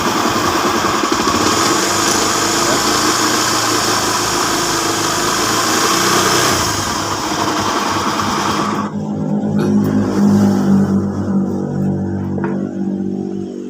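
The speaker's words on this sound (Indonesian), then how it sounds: "Tapi kalau kita gas, blok bloknya agak hilang ya, karena kena putaran tinggi." A car engine with a knocking fault inside the crankcase, revving and running loudly close up for most of the span, then dropping to a rougher idle with faint irregular taps.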